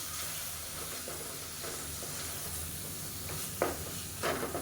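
Tomatoes and onions frying in a pan with a little added water for Madurai-style parotta salna, a soft steady hiss and sizzle with a few brief stirring scrapes, close and fairly quiet, no talking.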